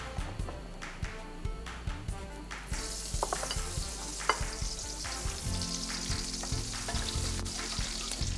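Onions and garlic fry in peanut oil and butter in a wok, giving a steady close sizzle that brightens into a louder hiss partway through, with light stirring and scraping throughout.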